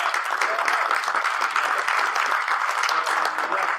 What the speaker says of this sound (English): Can we give an applause for the awesome rap from yesterday?